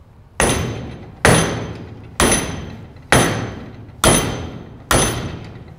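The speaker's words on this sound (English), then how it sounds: "So we got an 8-pound sledge." An 8-pound sledgehammer strikes a welded steel joint six times in a steady rhythm. Each blow is a loud, close, ringing metallic clang that decays before the next hit, with no talk.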